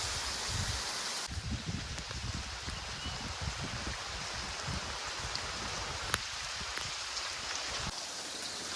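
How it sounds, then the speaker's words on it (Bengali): Steady rain falls outdoors during cooking, a dense, continuous hiss with no breaks that holds close and even from start to finish. No voices. "দেখো রান্না করতে করতে চারিদিকে বৃষ্টি চলে এসছে"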